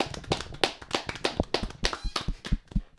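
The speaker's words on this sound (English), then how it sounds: "Can we get another round of applause?" A few people clap briskly and close by for a round of applause in a small podcast room, the sharp claps irregular and steady throughout with no talking.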